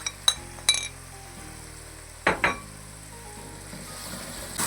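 Chili powder, salt and turmeric fry in a pan for a desi aloo masala, giving a soft, low sizzle, with a few sharp clinks of a spoon against the pan near the start and again midway.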